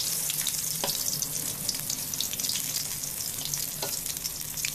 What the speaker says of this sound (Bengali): দেশীয় বেগুন, একেবারে টাটকা, সরিষার তেলে করতেছি।